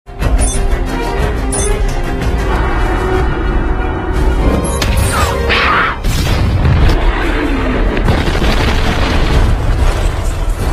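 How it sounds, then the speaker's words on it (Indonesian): Film-effect bomb blast destroying a resort: a sustained roaring explosion with heavy booming bursts, crackling debris and rumbling that continues loudly throughout. "bom yang sudah dipasang langsung meledak, dan membuat seluruh resort hancur tidak tersisa"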